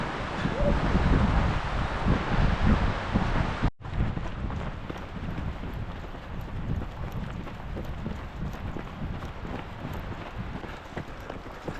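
Strong wind buffets the microphone in a steady, loud roar while a runner descends from Snow Summit on a mountain trail ultra race, with a brief cut partway through and no talk.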